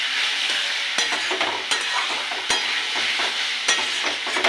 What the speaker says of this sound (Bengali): মশলা কষে তেল ছেড়ে এসছে।